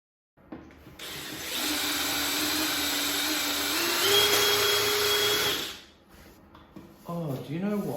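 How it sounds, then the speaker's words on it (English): A leaf blower roars indoors for several seconds, clearing debris off the floor in a workshop, then cuts out and winds down. Brief clattering and a voice follow. "I should use that leaf blower in here. Probably quicker than sweeping it up"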